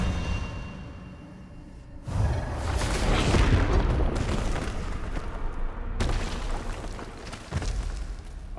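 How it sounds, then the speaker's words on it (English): A spell cast in a wizarding video game set during a trial with a professor, bursting in as a loud, booming magical blast that rumbles on, followed by a second forceful surge a few seconds later. "Expelliarmus!"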